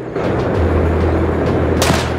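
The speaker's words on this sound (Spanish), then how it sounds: "Petardo ahí." A single sharp firecracker bang bursts out near the end over a steady, rumbling soundtrack in the video game RIOT: Civil Unrest.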